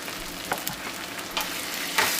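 Shrimp in tomato sauce simmering over a low flame, a soft steady bubbling hiss broken by a few brief scrapes of stirring, close and quiet with no voices.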